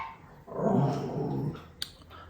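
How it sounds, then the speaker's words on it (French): A dog named Meko growls and gives a low, gruff bark at close range indoors, one sustained rumbling vocalization followed by a short sharp sound, with no talking. "Meko continue à aboyer sans raison."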